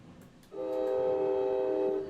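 A train horn in the Trainz Simulator video game sounds a single loud, sustained, steady blast that starts abruptly and holds strongly to the end, with a faint rumble underneath and no voices.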